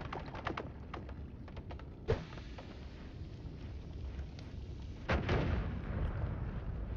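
Explosions in the video game Noita: a few sharp, heavy blasts, one standing out near the middle and another starting a louder rumbling stretch near the end, over steady low game noise with no talk.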